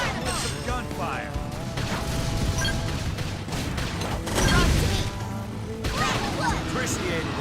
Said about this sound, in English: Follow up with some gunfire!